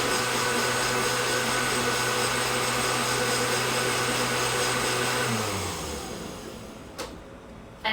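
A countertop blender whirs steadily as it blends a dark drink until frothy, then the motor winds down and stops near the end, leaving a short quiet tail with a couple of clicks.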